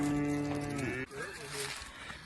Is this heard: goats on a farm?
yes